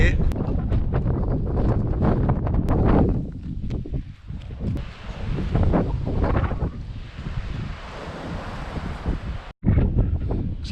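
Strong gusting wind buffets the microphone on a clifftop coastal path on Anglesey, a loud rumbling roar that swells and dips throughout, with brief muffled breaks and a short dropout near the end.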